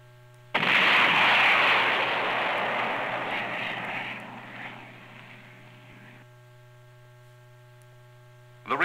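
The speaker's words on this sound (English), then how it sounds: "This fixed launcher was erected to permit launching the rocket and to study its performance and accuracy." A Douglas MGR-1 Honest John rocket fires from a fixed launcher with a sudden loud blast, then a sustained roaring rush that fades over several seconds, over a constant low mains hum.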